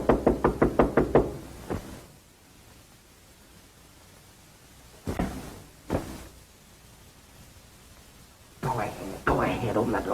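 A rapid burst of about seven sharp knocks on a door in a 1933 film opens the scene, followed by hissy quiet, a couple of isolated thumps and muffled voices.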